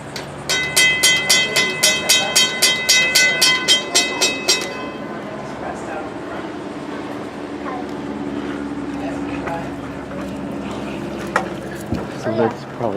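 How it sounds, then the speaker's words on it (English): A railroad crossing bell at the Wilmington Railroad Museum clangs in a rapid, even series of strikes for several seconds, then stops, leaving a low rumbling background with scattered clanks and faint voices. "this crossing is connected to a bell. The bell works on this."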